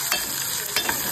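Peas, tomato and chili sizzle steadily in a pan, with a spoon scraping and stirring through them in a few quick strokes, close and fairly loud.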